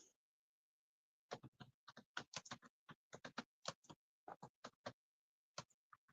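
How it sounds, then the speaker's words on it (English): Someone types on a computer keyboard with quick, irregular keystrokes in short bursts and pauses, close but quiet, with no voices. "poking on my keyboard."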